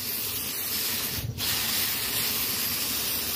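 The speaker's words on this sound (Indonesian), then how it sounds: "Kita tinggal semprot aja." A spray bottle hisses in one long continuous spray in a Taiwan vegetable garden, used to mist a fruit-fly trap bottle, steady and fairly close with no talking.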